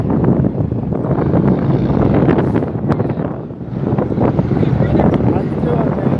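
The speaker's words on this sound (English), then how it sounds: "We're going to go for a walk in the wind." Strong outdoor wind in Rocky Ford, Colorado roars and buffets the microphone continuously, loud and close, easing briefly before gusting again, with voices faintly mixed in.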